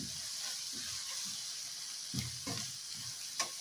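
A paprika sauce fries gently in a pan for a hake marinera dish, giving a soft, even hiss with occasional faint stirring taps and a brief clink near the end, fairly quiet and without voices.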